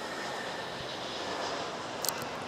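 A DHL Airbus A330 takes off from runway 06 at Manila's NAIA airport, its jet engines giving a faint, distant, steady roar that holds evenly throughout.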